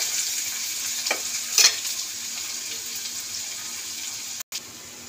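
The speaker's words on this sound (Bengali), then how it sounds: "এই যে পেঁয়াজটা ভাজা হয়ে গেছে" Onions frying in a pan for egg curry give a steady even sizzle with a couple of brief stirring scrapes, then a short dropout near the end; no talking.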